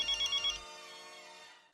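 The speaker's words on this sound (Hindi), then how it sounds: "अंजलि का फोन" A telephone bell rings in a domestic scene: three quick, fairly faint pulses of ringing, followed by a fading tail and quiet.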